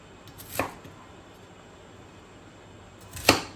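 A knife cuts vegetables into bite-sized pieces on a cutting board, giving two sharp, separate chops about three seconds apart in an otherwise quiet room.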